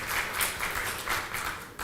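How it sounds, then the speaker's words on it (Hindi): An audience welcomes Indian transport minister Nitin Gadkari with applause at an interview event. Dense, continuous clapping swells in brief waves, moderately loud and without voices. "तालियों के साथ।"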